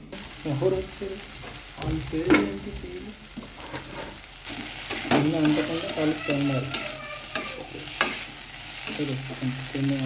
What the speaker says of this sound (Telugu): లైట్ బ్రౌన్ కలర్ వచ్చిందాక మనం బాగా ఫ్రై చేసుకోవాలి.